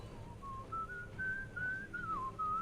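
A character in Shadows Over Loathing whistles a short, wandering melody, clear and sustained over soft background ambience, alone without talk.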